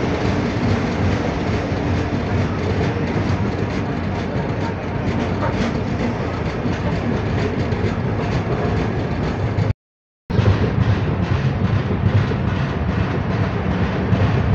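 A long-distance Indian train rolls steadily into Rangiya Junction, its wheels and carriages producing a continuous, loud rumble and rattle that is broken only by a brief gap of silence before the running noise resumes.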